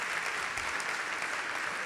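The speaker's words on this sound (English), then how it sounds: "So we'll give them a round of applause." Brief, steady applause fills the room at a European cultural launch event, a dense, even patter of many hands clapping at moderate volume.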